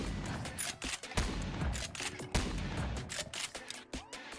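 A Model 1887 lever-action shotgun firing in the VR game Bonelab: several sharp, loud blasts at irregular intervals, each followed by brief decay and mechanical clatter, with no speech.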